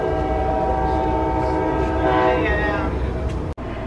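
A passenger train draws near with a loud, continuous rumble and rolling wheel noise, its horn sounding as a sustained tonal blast that swells midway before the sound cuts off abruptly near the end.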